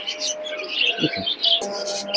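Pigeons coo and chirp at a busy pigeon market, several calls close by, steady and fairly loud throughout with no one talking.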